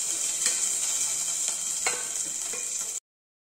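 Garlic and green chili frying with cumin in a home kitchen pan give a steady, bright sizzle, with a few soft stirring scrapes and clicks along the way. No one speaks.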